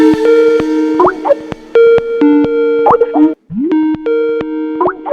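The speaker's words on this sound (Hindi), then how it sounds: "वीडियो कॉल कर रही है।" A phone rings for an incoming video call: a loud electronic ringtone of repeated melodic tones and chimes, with a short break near the end before it resumes.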